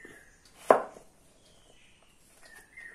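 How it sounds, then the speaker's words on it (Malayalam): A knife cuts peeled, seeded papaya on a cutting board, giving one firm, close chop on a quiet background followed by faint small handling sounds. "തൊലിയെത്തി കുരുവൊക്കെ കളഞ്ഞ് വൃത്തിയായിട്ട് അരിയാം"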